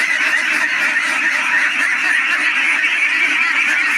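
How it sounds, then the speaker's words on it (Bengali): A dense flock of Pekin ducks at a duck farm keeps up a constant loud chorus of quacks and honks, close by and continuous, with no talk. "এটা হচ্ছে পিকিং হচ্ছে 13। এটা খঞ্চের হাঁস।"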